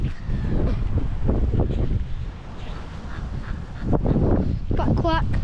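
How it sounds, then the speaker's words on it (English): Ducks at a lake give a few scattered quacks and honks, mostly faint under wind noise and nearby talking, with a sharper call near the end. "There's a few ducks, but not much."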